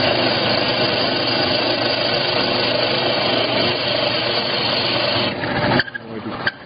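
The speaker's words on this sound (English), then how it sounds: "I'm not making the drill press work too hard to do this" A drill press bores through wood with a Forstner bit, a loud, steady grinding whir that runs for several seconds before easing off and stopping with a few clunks at the end.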